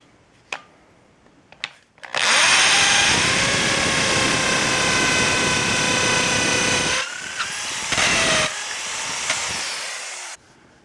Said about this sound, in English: This is the depth that I need to make the hole. I know when to stop drilling when I hit the tape.